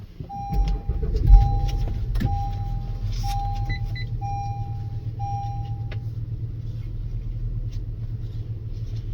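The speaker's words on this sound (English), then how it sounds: "Now let's go ahead and start up the vehicle." A car engine cranks and catches, then settles into a steady low idle rumble, with repeating electronic chimes from the dashboard sounding over it.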